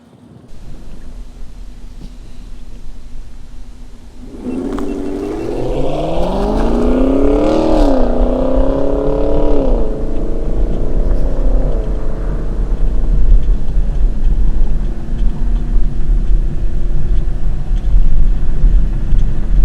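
A race car on a track revs up and accelerates hard at full throttle after a few seconds of idle, its engine note climbing and holding loud and close with steady wind noise, and no one talking.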